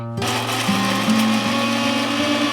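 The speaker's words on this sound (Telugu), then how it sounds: "దీన్ని కూడా మిక్సీ పట్టేయాలి" A mixer grinder grinds tempering spices for a chutney of telagapindi (sesame cake) leaves, starting up and whirring with a steady high motor whine that wavers slightly in pitch as it runs.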